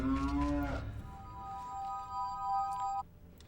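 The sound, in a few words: cow mooing in The Legend of Zelda: Majora's Mask video game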